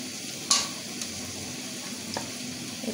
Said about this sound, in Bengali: এখন আমি মাংসটা দিয়ে দেব।